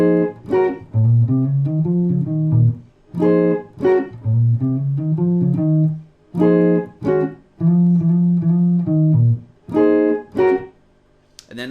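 Guitar plays the section B riff of a tune, short melodic phrases of sliding single notes answered by sharp chord stabs, repeated in a call-and-response rhythm, loud and close with brief silences between phrases.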